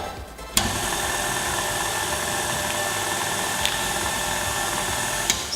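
KitchenAid stand mixer running on speed 4 while kneading pasta dough: the motor kicks in after a short pause and holds a steady, loud mechanical whir with faint knocks, and no talk.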